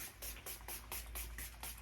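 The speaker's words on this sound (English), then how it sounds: "And I'm gonna just do a little extra body spray." Body spray is sprayed in about six short, evenly spaced hissing bursts, close and fairly soft, with no talking.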